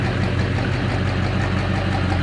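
A rebuilt engine in a 1958 Plymouth Suburban two-door wagon idles steadily, a continuous low, even rumble heard close and alone without any voices.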